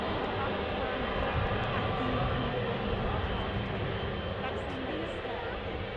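A twin-engined aircraft at Manchester Airport roars steadily and loudly throughout, a continuous broadband engine drone with no break.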